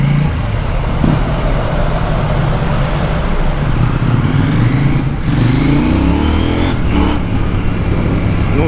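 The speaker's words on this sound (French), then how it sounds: "Donc, ce moteur, il est tellement rageur." A KTM Duke motorcycle engine roars loudly and close, revving up repeatedly with rising pitch sweeps over a constant rumbling drone.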